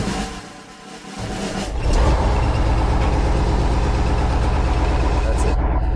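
Diesel engine of a KrAZ-256B1 Soviet heavy dump truck starting up and settling into a loud, steady, close rumbling idle that fills the whole stretch.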